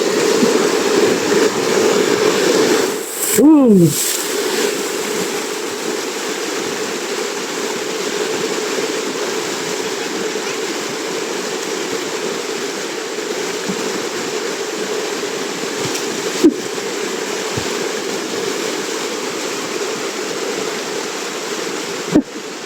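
Loud, continuous rushing of river water, steady and close, with a brief swooshing burst near the start and a couple of faint clicks later.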